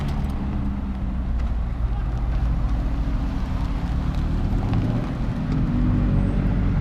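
Steady, loud engine rumble of Lamborghini supercars, including a Huracan Performante, rolling past close by in a police-escorted convoy in Chandigarh, a continuous low drone with faint voices in the background.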